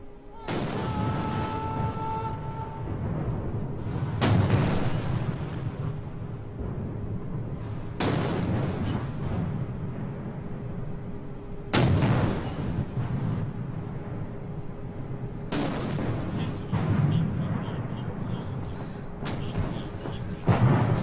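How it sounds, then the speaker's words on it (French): Ceremonial 70-gun cannon salute: heavy booms fire one after another at slow, regular intervals of a few seconds, each echoing over a crowd's low murmur. "j'annonce le tir de 70 canons de protocole"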